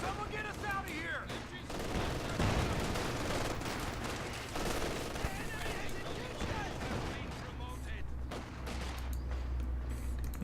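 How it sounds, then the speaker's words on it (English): Machine gun fire and other gunfire in a Company of Heroes 2 2v2 match on a winter map, dense rattling bursts and explosions running continuously under active battle noise with voices in the mix. "Oh, machine gun up here."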